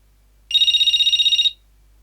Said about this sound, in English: We'll dive in and have a listen to a ringtone.